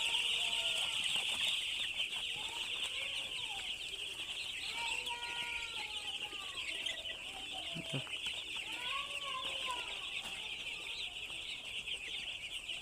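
Poultry chickens on a farm cluck continuously in a busy chorus while pecking at fresh bran, calls close and overlapping over a steady high hiss.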